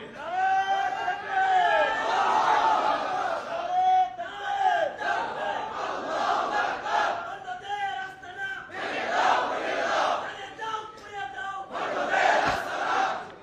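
A large crowd chants slogans in rhythmic unison at a religious gathering in Bangladesh, loud, close and continuous, with short swells and pauses between the shouted phrases.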